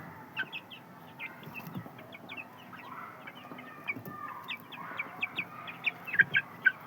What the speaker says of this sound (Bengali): এটা মেয়ে মুরগিটা